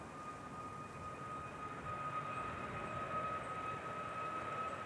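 A Ryanair airliner departs Manchester Airport, its engines a steady broadband roar with a faint high whine, continuous and fairly distant throughout.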